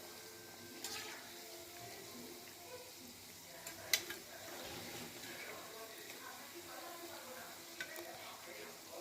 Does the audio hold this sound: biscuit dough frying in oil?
yes